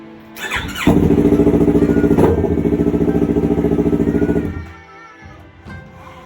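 A big bike motorcycle engine, just repaired after an error 46 fault, cranks and starts with a close, loud, rapid rhythmic chugging that runs for several seconds before cutting off.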